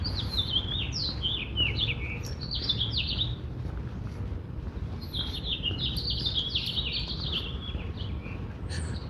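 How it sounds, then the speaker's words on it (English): Birds chirp and tweet outdoors in downtown Vancouver, bright rapid calls in two bursts over low city rumble, fairly faint at a moderate distance with no talking. "You want to be able to hear the birds chirping."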